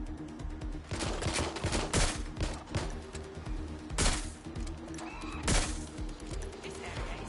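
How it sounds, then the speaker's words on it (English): Bursts of gunfire in the video game Watch Dogs Legion, rapid volleys and single shots cracking repeatedly over a dense game soundscape with a faint voice now and then. "Someone's shooting."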